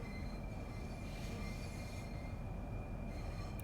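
Modern electric multiple unit from Train Sim World 2, a Southeastern high-speed Class 375/9 commuter train, heard from inside as a steady, quiet rolling rumble with faint high electrical whine, continuous throughout without talk.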